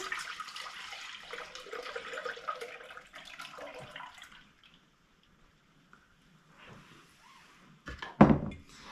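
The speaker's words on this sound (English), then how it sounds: "we're going to put the milk into the liner" Milk pours into an Instant Pot's inner liner with a close, splashing liquid stream for several seconds, then stops, leaving near silence before a sharp thunk near the end.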